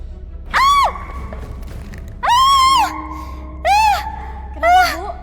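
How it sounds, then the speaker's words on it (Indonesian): A cat meows four times indoors, drawn-out rising and falling cries spaced a second or so apart, close and fairly loud against a quiet background. "Itu kamu lihat deh ada kucing."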